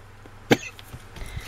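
A single sharp cough stands out clearly against quiet room noise, followed by a few faint shuffles and small sounds.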